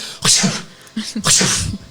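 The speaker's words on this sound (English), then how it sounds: "he throws out a couple of sneezes" Two sharp sneezes in quick succession, each a sudden hissing burst with a short breathy lead-in, close and fairly loud.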